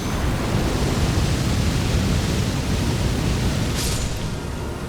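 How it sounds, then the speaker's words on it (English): Sasuke's fire style attack in a modded Elden Ring video game: a dense, steady roar of rushing flame lasting several seconds, loud and close, with a brief high flicker near the end. "You have Sasuke's fire style."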